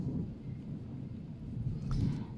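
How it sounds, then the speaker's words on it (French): Low rumbling thunder from a passing storm, a continuous muffled roll that swells slightly near the end, heard indoors without speech. "l'orage s'invite."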